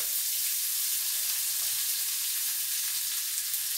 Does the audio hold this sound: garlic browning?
yes